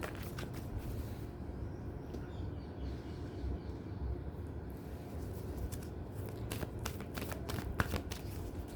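Tarot cards are gathered up and shuffled by hand, producing a close, soft, continuous papery rustle that ends in a run of quick flicking snaps.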